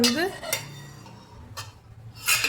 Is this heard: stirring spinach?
yes